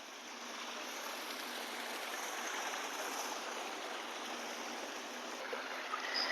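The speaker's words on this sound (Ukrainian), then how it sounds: "Ось такі чудові водоспади." Waterfalls at a Croatian resort give off a continuous, even rush of falling water, a broad steady hiss that holds at moderate loudness throughout.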